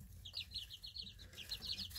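Young egg chickens out on grass, clucking and chirping in a steady scatter of short calls throughout, fairly close, with no talk.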